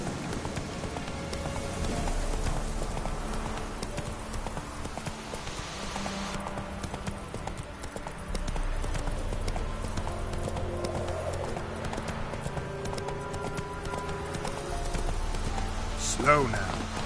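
Horse galloping in the Witcher 3 video game: rapid rhythmic hoofbeats close by over a soft game ambience, continuing throughout with slight changes in pace.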